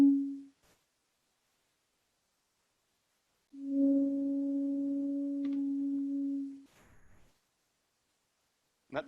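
A tube with a red-hot heated screen inside sings a steady, pure humming tone from the rising hot air, lasting a few seconds, with brief clicks and a short bit of speech around it.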